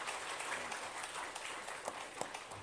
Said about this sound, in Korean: 우리 다 같이 축복의 박수를 보내주시겠습니다.